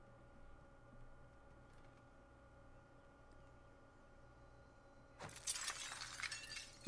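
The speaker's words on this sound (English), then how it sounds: "He just broke the glass" Glass shatters abruptly in the Warzone video game, a sharp crash followed by several seconds of bright tinkling shards over a steady low game ambience.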